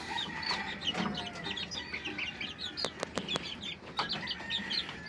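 Hens in a small backyard coop cluck and chirp throughout, close and moderately loud, with a few sharp clicks and knocks mixed in.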